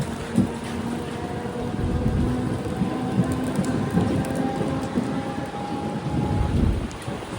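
A Mumbai local train pulls into Tilak Nagar station in monsoon rain, with a steady close rumble of wheels and carriage clatter and a dense hiss of heavy rain, with no voices over it.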